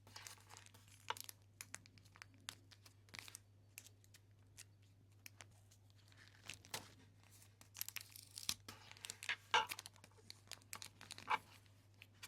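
Pieces of tape are torn and pressed on to seal an acrylic paint henna cone, giving quiet, irregular short rips and crinkles over a faint steady hum.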